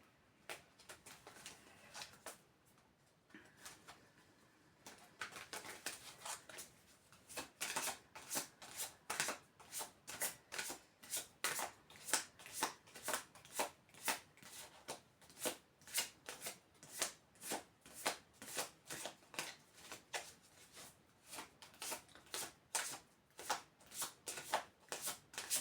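Oracle cards are shuffled by hand for a tarot-style reading, with soft riffling at first, then a long run of quick, regular card slaps and flutters, close and moderately quiet with no voice.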